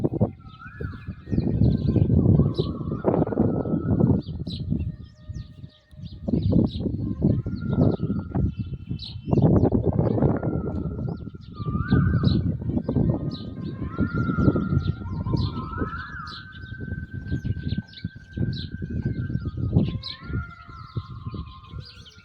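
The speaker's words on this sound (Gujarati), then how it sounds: "પક્ષી કેમ બોલે ભાઈ" Birds call and pigeons coo in the early evening, with repeated whistling, sliding tones and low cooing phrases layered over a steady rumble of background noise, lasting the whole stretch.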